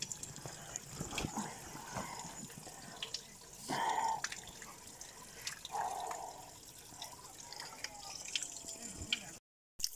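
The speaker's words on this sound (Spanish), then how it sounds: "Es que está pingando." Water drips and trickles from a tap into a sink, with a couple of louder splashy bursts of flow and running water, a quiet background throughout and a brief dropout near the end.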